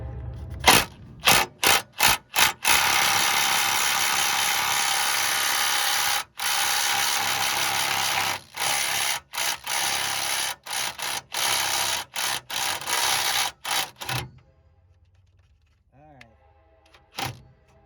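Someone loosens a nut on a truck's radius arm with a loud power tool, most likely an impact wrench. It roars in repeated bursts of varying length, broken by brief gaps, then stops, leaving quiet with faint talk.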